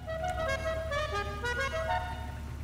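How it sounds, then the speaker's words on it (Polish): Car horn in Grand Theft Auto Online, a sustained honk running the whole stretch, wavering slightly in pitch over low engine hum. "Klaksonik."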